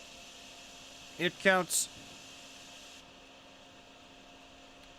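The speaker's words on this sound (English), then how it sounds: "your vacuum sound sometimes does this and doesn't turn off when you stop using it" A vacuum tool in DrainSim, stuck on, gives a steady faint whooshing drone with a high whine that cuts off abruptly partway through, briefly under a short spoken phrase.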